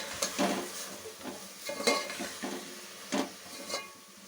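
Ground coriander and chili powder fry in oil for a wedding-style sambar, with a soft sizzle under repeated rhythmic scraping strokes of a spoon stirring the pan, close and fairly quiet, with no talking.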